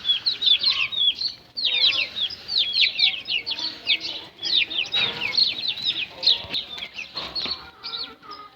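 Chickens and young chicks cheep and peep in rapid high chirps, with soft clucking mixed in, continuous and close.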